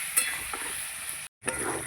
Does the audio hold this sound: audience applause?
no